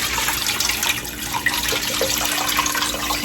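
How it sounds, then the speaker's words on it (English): Water poured into a pot to cover chicken for homemade chicken and dumplings, a steady continuous splashing rush at moderate level. "we want to add enough water to cover our chicken"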